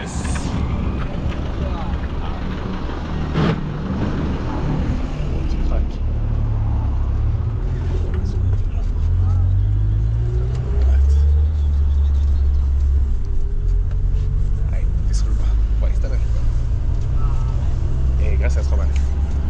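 A bus on a road near the Honduras–Nicaragua border, a loud low engine rumble that swells and drones steadily as it passes close by, with traffic noise around and voices faintly underneath.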